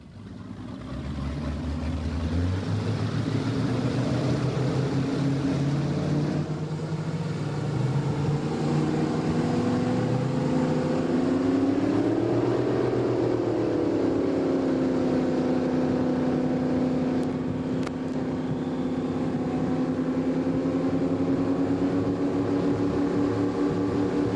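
A powerful engine roars steadily for the whole stretch, its pitch rising and then holding as the boat picks up speed, loud and close.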